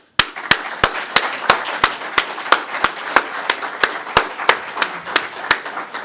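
A single person claps at an opening-remarks session of SkydogCON 2013, a hacker conference: about twenty sharp, evenly spaced claps over six seconds, steady and fairly close, with no talking.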